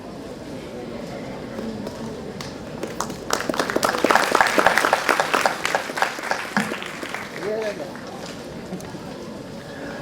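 Applause from a keynote event audience, building from scattered claps to a dense burst of loud clapping mid-clip, then thinning out as a voice talks over it.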